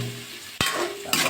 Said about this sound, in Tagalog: Gigisa ko muna yung mga ingredients.